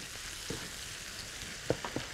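Soft hiss of tomatoes frying in a pan, broken by a few quick scraping knocks as they are stirred, close and brief, no voices.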